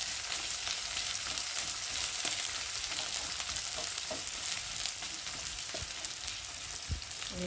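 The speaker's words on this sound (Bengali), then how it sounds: "পেঁয়াজটা একটু ভালো করে তেলের মধ্যে নেড়ে দেবো।" Chopped onion fries in hot oil after cumin seeds, part of a rohu fish dish. A steady close sizzle is broken by occasional scraping and clacking from stirring, with no talking.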